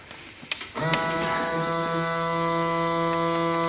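A $100 King's vacuum sealer clicks shut and then runs with a steady close-up motor whine and hum that holds evenly to the end.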